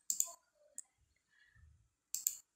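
Crisp mouse clicks while editing text in Publisher: two close clicks at the start, a single click a moment later and another pair at the end, each sharp and close, with faint low handling noise between them.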